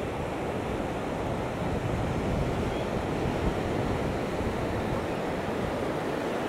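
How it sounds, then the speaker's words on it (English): Strong wind roars and buffets the microphone without a break at Ao Manao Beach in Prachuap Khiri Khan, Thailand, with surf rumbling underneath; no voices. "It is windy"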